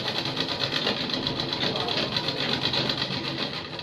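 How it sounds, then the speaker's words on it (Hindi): A home sewing machine stitches cloth face masks with a fast, regular mechanical clatter, pulsing evenly and close throughout while a voice speaks over it. "घर पर सिलाई मशीन से कपड़े के मास्क बनाती हैं"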